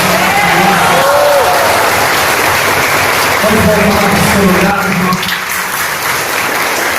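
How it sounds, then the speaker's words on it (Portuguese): A congregation applauds at a church retreat, dense sustained clapping from a crowd, loud and close, with someone speaking over the applause. "Vamos aplaudir esse Deus."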